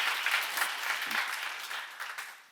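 A church seminar audience claps together in a short burst of applause; soft, fairly distant clapping that slowly tapers off.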